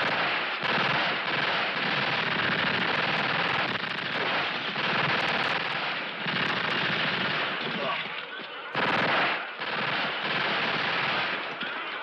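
A firing platoon in a movie execution scene lets loose a volley that becomes sustained, rattling gunfire, loud and close, running almost continuously with only a brief break near the end.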